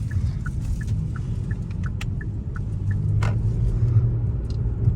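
A Genesis G80 3.8 RWD driving through a subdivision gives a steady, close low rumble of engine and road noise from inside the cabin, swelling slightly toward the end, with faint ticking sounds over it.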